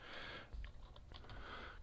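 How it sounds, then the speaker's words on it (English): Fingers tap on a computer keyboard while working in an Excel spreadsheet, a faint, irregular run of soft key clicks in a quiet room with no voices. "Can't find the keys on the keyboard, even after all this long."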